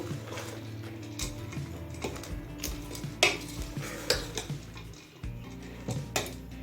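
Roasted ground spice powder being stirred into bhel puri, a street-style puffed rice snack with lemon juice, giving a steady dry rustling and scraping of crisp mixture in a bowl with occasional light clinks, close and moderately loud.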